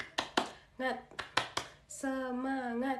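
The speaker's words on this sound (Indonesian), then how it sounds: "Tepuk semangat." A class of schoolchildren performs a motivational clapping routine: a quick pattern of sharp, separate hand claps in a set rhythm, followed by children's voices chanting together.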